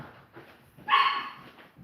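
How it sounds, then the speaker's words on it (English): A puppy gives a short, fairly loud bark-like yelp with a whimpering edge, standing out briefly over quieter background noise. "are we teasing the puppy? That's not nice."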